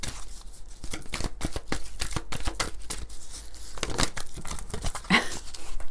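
Oracle cards being shuffled and drawn during a reading, a run of quick papery riffles, flicks and crinkles at close range, fairly loud and continuous, with no talking.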